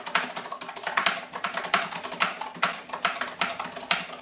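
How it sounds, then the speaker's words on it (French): Fast, crisp key presses from typing on a Razer DeathStalker V2 Pro wireless keyboard form a dense, even clatter of clicks that stays close and steady for the whole stretch, with no speech. "On va pouvoir faire un petit test d'écriture"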